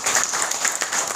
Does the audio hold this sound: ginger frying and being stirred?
no